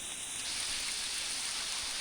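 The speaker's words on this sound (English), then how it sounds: "Look how much it's raining out there." Steady, heavy rain during a thunderstorm pours down in a dense, even hiss outdoors, with no voices.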